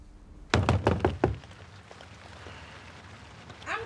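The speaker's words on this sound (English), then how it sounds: "she's knocking at door." Knocking on a door in a television drama, five quick loud raps in a burst, followed by quiet room tone.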